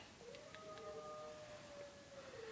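A dog howls in a long, wavering tone lasting a couple of seconds, fairly faint against steady room noise, with no talking over it.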